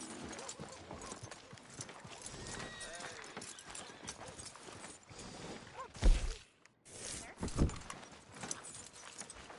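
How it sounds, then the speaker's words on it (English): Horse hooves clip-clopping in the video game Red Dead Redemption 2, a steady rhythmic trot of hoofbeats under quiet talk, broken near the end by a few louder thuds. "Are you gonna mount that new horse of yours or not?"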